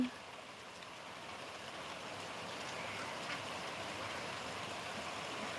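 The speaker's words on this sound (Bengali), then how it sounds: "সকাল থেকেই একটু একটু বৃষ্টি আসছে আর বন্ধ হচ্ছে এখন আবার তো একটু শুরু হলো" Light rain patters steadily in a soft, continuous hiss, faint and even throughout.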